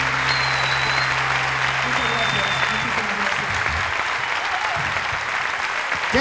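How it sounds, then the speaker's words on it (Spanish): A concert audience at a show in Lima applauds loudly and continuously, dense clapping with a few whistles early on and crowd murmur beneath. "Pero aplauda más fuerte, que nos escucha"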